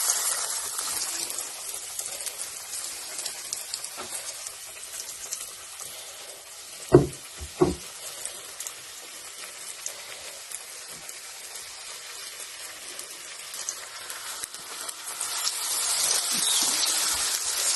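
Chicken strips fry in hot ghee with a steady, fairly close hiss and crackle, broken by a few sharp clinks partway through.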